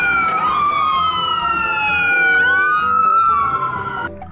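Toy ambulance siren wailing steadily and loudly up close, rising and falling in pitch for about four seconds before cutting off.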